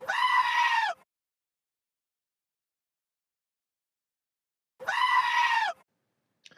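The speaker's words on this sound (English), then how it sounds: "I think they're a little bit creepy the way they yell" Goats wandering about yell out in two loud, harsh bleats, each about a second long, separated by several seconds of silence.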